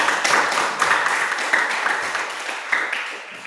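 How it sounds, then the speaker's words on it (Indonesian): A classroom group applauds at the end of a teaching session, with a steady, moderately loud wash of clapping from many hands close by and a few sharper claps standing out. "Tepuk tangan untuk kita semua."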